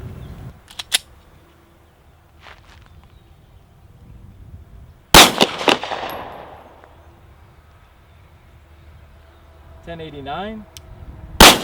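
A Glock 43 pistol fires old pre-2018 Winchester 124 grain NATO ammunition in one loud, close, sharp report with a decaying echo. Someone speaks briefly, and chronograph beeps and faint clicks come before and after.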